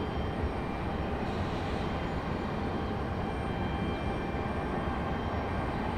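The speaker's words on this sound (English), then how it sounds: "Our United 737 getting a move on." United Boeing 737-700 jet departing at Raleigh-Durham, a continuous rushing engine roar at moderate level with a faint high whine, no voices.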